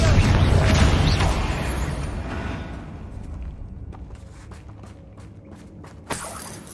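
A Confringo blasting spell explodes in the Hogwarts Legacy video game, opening with a loud deep boom whose rumble slowly dies away, followed by light tapping steps and a sharp crack near the end.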